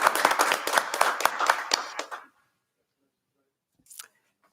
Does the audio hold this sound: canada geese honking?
no